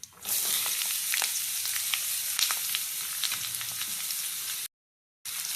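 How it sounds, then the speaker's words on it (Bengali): Cut potatoes hit hot oil already sizzling with black cumin seeds and green chilies, giving a steady, close, bright frying hiss that runs continuously before a brief cut to silence. "তেল গরম হয়ে গেছে। এর মধ্যে দিয়ে দেওয়া হলো কালো জিরে আর কাঁচা লঙ্কা। এরপর দিয়ে দেওয়া হচ্ছে কেটে রাখা আলু।"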